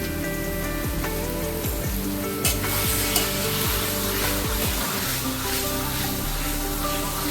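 Taro leaves frying in a pan with salt and turmeric, stirred steadily with a utensil that scrapes and clinks in a regular rhythm over a continuous close sizzle, with no voices.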